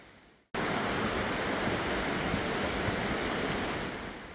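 A mountain stream rushes through Gucheondong valley on Deogyusan, a dense, even roar of flowing water that starts abruptly after a brief quiet moment and stays loud and close throughout.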